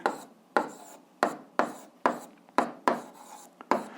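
Someone writes out an algebra expression by hand, producing a close, crisp run of about eight regular scratching strokes, each starting sharply and fading quickly, with no voice.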